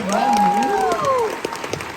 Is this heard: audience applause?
yes